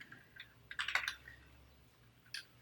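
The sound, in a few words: typing on a computer keyboard while writing code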